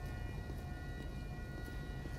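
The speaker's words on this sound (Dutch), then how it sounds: "Brandweerwagen is aanrijdend." A fire truck siren approaching in GTA 5, a steady droning wail with sustained tones under a dense low rumble, continuous and fairly loud throughout the short stretch.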